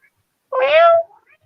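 A single cat's meow, clear and fairly close, rising and sustained for about half a second, with quiet moments before and after.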